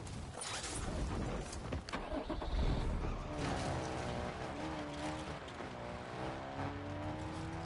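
A vehicle engine in the game Warzone revs and rumbles up close, rising in pitch as it accelerates, then settles into a steady drone.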